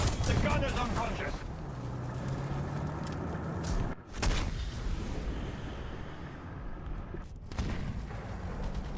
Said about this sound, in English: That's the proxy fuse, the ZSU 57-2.